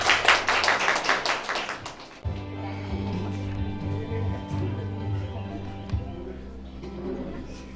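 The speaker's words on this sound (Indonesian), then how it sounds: "Tepuk tangan." Brisk rhythmic hand clapping from a small group opens the scene at a family gathering and fades after about two seconds, giving way to a steady background hum and distant murmur.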